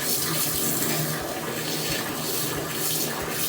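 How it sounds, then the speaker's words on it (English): Water runs from a shower head while a mini washing machine is being filled, making a steady broadband hiss and splash that stays even and close throughout. "he's using the shower head because I guess it's easier for him"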